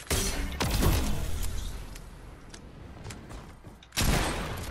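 Loud video game gunfire from a Fortnite match, a dense burst of rapid shots that eases off and then returns sharply near the end, with no talking.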